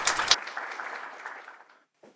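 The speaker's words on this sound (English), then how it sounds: "May I have your warm applause?" Brief burst of warm applause from an audience at a children's world peace summit, loud at first and then thinning and fading out into near silence.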